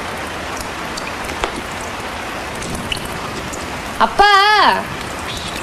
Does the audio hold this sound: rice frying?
no